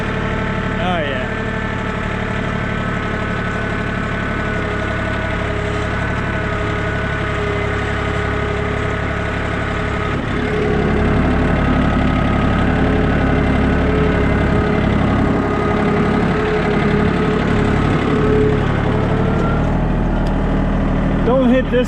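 Abandoned Ford Bronco II engine running steadily under light throttle in four-wheel drive while pulling a load, a continuous mid-pitched drone that grows louder about halfway through, with people talking nearby.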